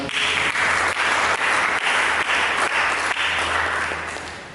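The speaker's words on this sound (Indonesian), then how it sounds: "Berikan tepuk tangan." A church congregation claps loudly during a sermon, a dense, steady applause that holds for several seconds before easing slightly at the end.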